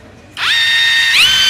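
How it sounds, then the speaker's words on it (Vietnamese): Electric drill with a small number 6 bit boring into a tiled wall to mount a spice rack: a loud, steady high whine starts abruptly after a short quiet moment, then shifts pitch slightly near the end as the bit bites, with no talking. "Và sau đó thì mình sẽ khoan lên tường ba cái lỗ."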